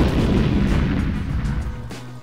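Mortar fire explosions in Battlefield 4, heavy booming blasts with rumbling low-end tails that roll and fade over a couple of seconds, loud and close.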